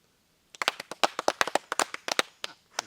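Small group of people clapping their hands at an outdoor gathering about the Kollam Lok Sabha election. The claps are close, sharp and irregular, lasting about two seconds after a brief silence, with no talking over them.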